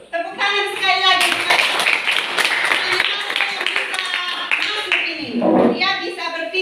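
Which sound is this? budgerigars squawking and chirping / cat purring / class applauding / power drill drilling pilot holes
class applauding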